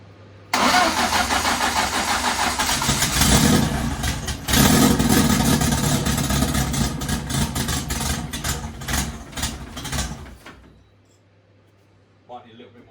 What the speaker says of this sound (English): So, for a stone cold engine, I'll say that started pretty easy